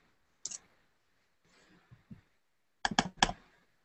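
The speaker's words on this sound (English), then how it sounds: "I'm not quite double clicking in there." A computer mouse clicks in short sharp bursts, a single click, a couple of faint ones, then a quick close cluster of louder clicks, against a quiet room.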